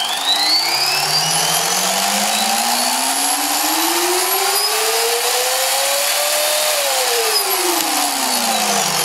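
The rotors of an RC helicopter spool up slowly, a loud close motor whine rising steadily in pitch over several seconds before dropping away, with a buzzing mechanical edge and no talk.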